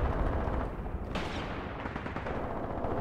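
Grenade blasts and rapid gunfire in the WWII tactics game Graviteam Tactics Mius, a dense, continuous barrage of overlapping shots and booms with one sharp burst about a third of the way through.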